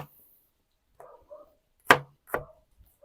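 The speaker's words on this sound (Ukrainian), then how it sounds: "Рубаємо всю нашу цибулю і будемо включатися" Onion chopped outdoors on a board with a knife, a few separate thuds spaced irregularly, close and fairly sharp against near silence.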